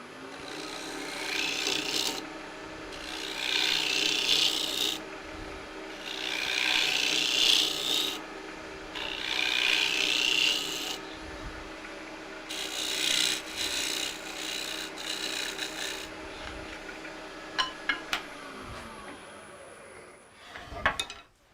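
An ash nut bowl spinning on a wood lathe gets finished with a tool held against it, giving repeated bursts of loud rasping, scraping contact separated by short pauses, with a steady motor hum underneath and a few light clicks near the end.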